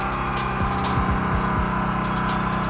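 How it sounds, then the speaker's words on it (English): Small compressor-like unit running on a Lincoln Town Car, a steady close mechanical hum with a few brief sweeping tones sliding down early on, alone with no talk. "It's like a little compressor."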